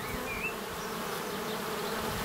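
Honeybees buzzing steadily around an open hive as its frames are inspected, a continuous close hum that fills the clip without pause.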